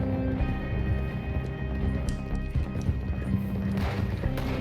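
Horse hooves galloping over ground in Red Dead Redemption 2 during a chase toward the hills, a steady rolling clatter under continuous game ambience, close and fairly loud.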